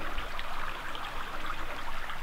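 A river runs through old New Hampshire forest with a steady, close rushing and trickling wash of water. It holds constant without breaks and no voices come through.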